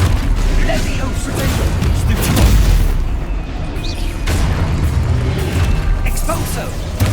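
Spell blasts and booming impacts from combat in Hogwarts Legacy roll on loudly and continuously, dense and rumbling with bursts layered throughout, alongside a player's voice.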